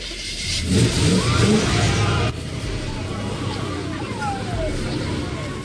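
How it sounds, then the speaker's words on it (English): A car engine running on plastic-waste gasoline alternative revs loudly, dropping to a steady running drone after a couple of seconds, with faint voices underneath. "This car's running off plastiline."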